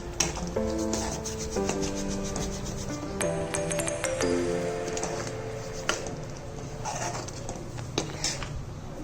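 Mushroom masala with dried kasuri methi (fenugreek leaves) stirred in a pan, rubbing and scraping strokes of the spoon with clinks, under a gentle background sizzle; no speech.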